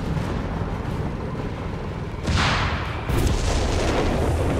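Artillery explosions in a Company of Heroes 3 3v3 multiplayer battle: a dense, rumbling roar of booms with two heavier blasts landing close together, loud and continuous, no talking.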